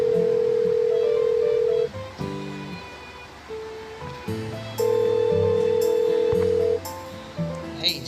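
Steady phone dial tone in the Doki Doki Salvation mod video game, two long sustained tones separated by a pause, loud over a soft background of game music.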